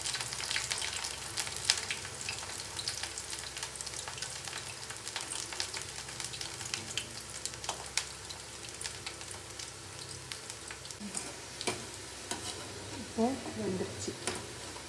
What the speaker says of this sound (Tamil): இப்போ எண்ணெய் சூடாகிடுச்சு. காலிஃப்ளவர் போட்டு